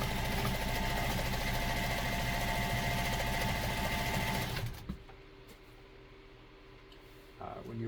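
A sewing machine stitches rapidly with the presser foot lifted for free-motion work on fabric moved by hand, a loud, dense mechanical chatter that cuts off abruptly partway through and leaves a low quiet hum.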